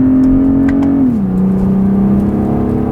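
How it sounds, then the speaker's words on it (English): Inline six-cylinder engine of a rear-wheel-drive BMW 840i Gran Coupé revving at high RPM, a loud steady drone from inside the car whose pitch drops midway with a gear change, no talking. "And this inline 6-cylinder sound,"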